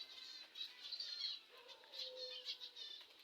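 Budgerigars chattering faintly at a distance, a quick stream of thin high chirps and warbles with soft wing flutters, no voices.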